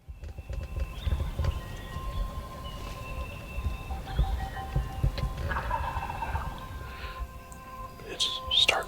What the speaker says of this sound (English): There's two down the hill from us gobbling.